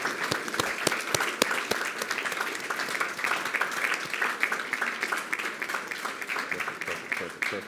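An audience at a school district board meeting applauds students with sustained, evenly dense clapping. Sharp individual claps stand out over several seconds before the sound eases slightly at the end.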